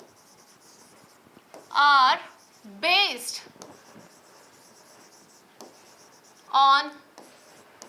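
Pen scratching across paper in steady, faint strokes beneath a teacher's voice that breaks in with a few short bursts of speech.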